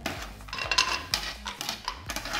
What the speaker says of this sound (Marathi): आता आपण यामध्ये टाकणार आहे काजू आणि बदाम